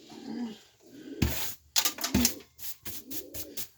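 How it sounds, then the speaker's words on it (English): A gray pigeon or dove perched on top of a bar coos in low, rounded phrases, with sharp knocks and rustling bursts breaking in between the calls close by. "I have this gray bird just right at the top of this bar."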